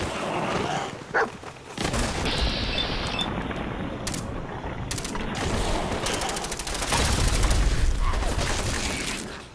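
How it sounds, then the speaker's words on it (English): Grenade blasts and gunfire in the video game Fallout, during a fight near a deathclaw, with dense bursts of explosions and shots overlapping continuously throughout. "lobbing grenades"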